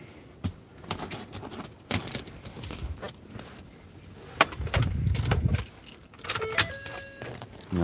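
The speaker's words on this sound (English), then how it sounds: "I'm gonna leave both keys in here." Keys to a 2012 Ford F250 plow truck jangle close by in several sharp, irregular clinks and rattles, with soft handling noises around them inside the vehicle.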